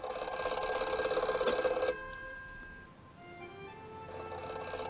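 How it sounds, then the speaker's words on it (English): A telephone bell rings in a steady trill for about two seconds, pauses, then starts ringing again, fairly close and clear. "Topham is awoken in bed by his telephone ringing."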